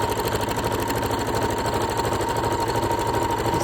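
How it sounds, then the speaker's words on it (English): A sewing machine stitching a straight seam for a clean seam finish, running at a steady, fast, even mechanical chatter, close and continuous throughout with no voices. "Sewing straight down, reverse at the end."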